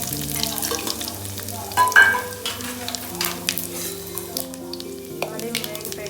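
Vadiyalu, sun-dried lentil dumplings, sizzle and crackle steadily in hot oil as a tempering for tomato pachadi, with one louder burst of spitting partway through and occasional stirring scrapes; no one speaks.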